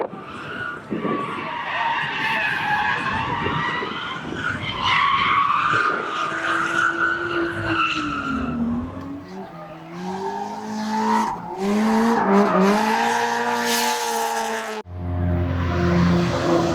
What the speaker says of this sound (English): First drift, not so good.